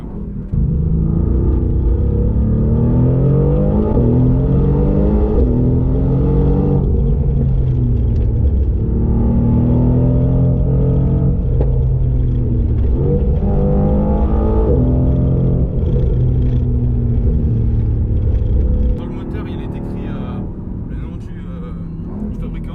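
A Mercedes-AMG GT R with its 585 hp engine accelerates hard on the road, loud rising and falling engine revs through repeated gear changes, with speech over it, then the roar cuts off near the end.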